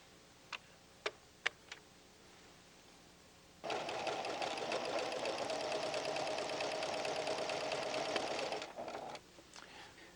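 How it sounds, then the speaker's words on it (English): A Pfaff creative 7550 sewing machine stitches a 2 mm zigzag satin stitch in one steady, dense whirring run of about five seconds, preceded by a few isolated clicks. "satin stitch over the straight stitch rows with a 2 mm zigzag stitch"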